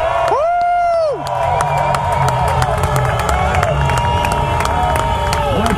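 A large motorcycle rally crowd cheers, whistles and roars continuously, a dense, loud wall of shouting and applause with sharp whistles cutting through near the start and end.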